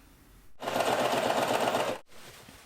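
A sewing machine runs steadily for about a second and a half, stitching a pumpkin pillow, a fast mechanical whir close by, starting and stopping abruptly.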